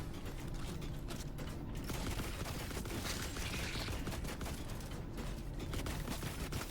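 Gunfire from The Last Caretaker video game rattles without pause, a dense, steady barrage of rapid shots mixed with mechanical clatter at constant loudness.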